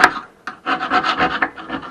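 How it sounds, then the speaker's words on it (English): A screwdriver scrapes old gasket material out of a woodstove channel in a series of close, rhythmic rasping strokes. A short pause separates the first scrape from a steady run of repeated scrapes. "Get a screwdriver, scrape it all out."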